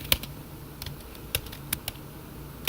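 Keystrokes on a computer keyboard while entering code in a Jupyter Notebook, heard as a handful of quiet, separate taps at an uneven pace with no voices.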